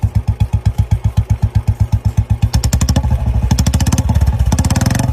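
BS4 motorcycle with original bend pipe and a replaced exhaust silencer, idling in a steady thumping rhythm before revving up into a faster, louder throb, close by and alone.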